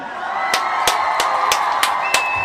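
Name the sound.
audience applause and cheering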